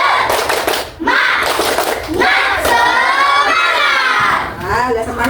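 A group performs the tepuk semangat spirit clap, sharp rhythmic claps in patterned bursts while many young voices chant and shout along, loud and close.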